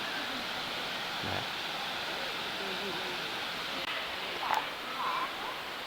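Phlio waterfall in a Thai national park in Chanthaburi produces a continuous broadband rush of falling water, steady and moderately distant, with a few brief rustles and small knocks near the end.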